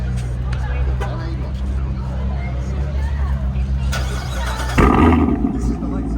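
A flared show car fitted with an AWE exhaust revs at a Cars & Coffee meet, its deep rumble rising into one loud burst near the end over steady crowd chatter and outdoor hubbub.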